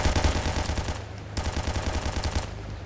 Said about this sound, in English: Oh, whoa, whoa, whoa, I'm being shot.